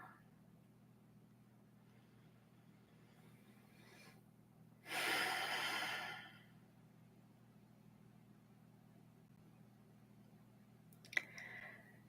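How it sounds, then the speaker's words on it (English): A single slow, deep breath during a guided meditation, one long airy exhale lasting just over a second in an otherwise quiet room with a low hum, followed later by a faint click. "A few more breaths here."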